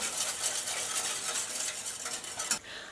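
Strawberry-flavoured jelly powder being stirred into water in a pot, a steady continuous scraping and swishing with light utensil clinks, close and alone.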